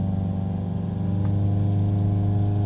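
A car engine runs steadily at idle, a constant close-up drone with a slight swell in loudness as it is revved.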